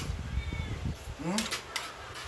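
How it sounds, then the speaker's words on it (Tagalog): A hungry cat gives one short, fairly faint meow amid low background noise and a few knocks. "Narinig nyo ba yung tahol ng aking pusa? Nagugutom na."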